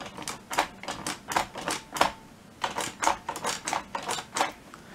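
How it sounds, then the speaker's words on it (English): Keys clack on a 3D-printed Enigma machine that is not yet bolted down, a series of sharp mechanical key presses in irregular bursts, close and distinct with brief pauses between groups. "you can see it's sort of it's lifting up as I press the keys"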